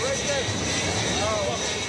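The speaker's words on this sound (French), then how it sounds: "des avions de chasse américains se sont même posés sur le Charles de Gaulle" Fighter jets land on the French aircraft carrier Charles de Gaulle at sea, a steady loud jet engine roar filling the air while a voice talks over it.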